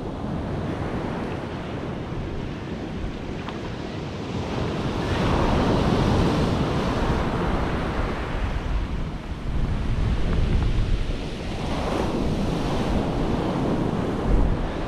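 Sea waves on the Yorkshire coast surging and washing in continuously with a loud, rushing roar that swells and eases in broad cycles, heavy wind buffeting the microphone throughout.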